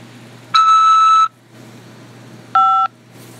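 Two electronic keypad tones over a phone line on a prison call system, each a short, loud, steady beep separated by about a second of near-silence, the first longer than the second.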